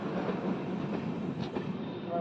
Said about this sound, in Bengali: আমাদের ট্রেন কলকাতা সাইরন এক্সপ্রেস হচ্ছে নেহাটি জংশনে।